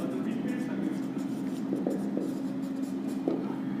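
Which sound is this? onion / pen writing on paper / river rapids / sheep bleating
pen writing on paper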